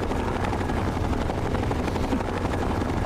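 A helicopter in the video game Fallout: A Tale of Two Wastelands thunders continuously with loud, steady rotor chop and engine roar, close and unbroken throughout, no talk over it.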